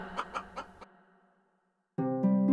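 A hen clucks a few quick times, followed by a brief silence and then a louder, drawn-out squawk.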